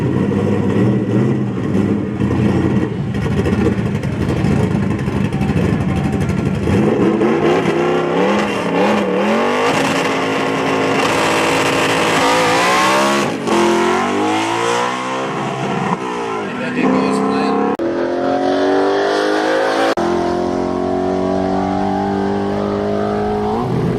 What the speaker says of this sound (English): All right, it's a top sportsman car coming down.